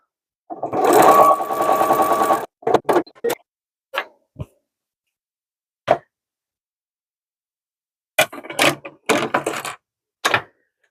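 A sewing machine stitches the seam of a fabric zipper pouch made from scraps, running in short loud bursts: one long run, then several brief stitching spurts separated by silence.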